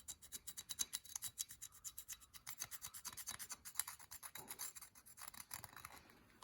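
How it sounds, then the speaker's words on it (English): A homemade Torx bit scrapes inside a Yamaha VMax 1200 brake caliper in quick rhythmic strokes, a faint close rasping scratch repeating several times per second without pause. "It takes a bit of scraping and shit. You gotta be careful not to ruin your cylinder, of course."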